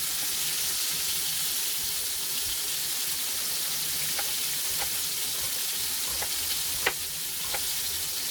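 Chicken frying in a pan with a steady, dense sizzle throughout, broken by a few faint clinks or taps of a utensil; no one speaks.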